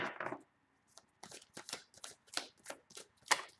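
Tarot deck being shuffled by hand, a brief riffle followed by a run of quick, close card flicks and slaps, alone without talk.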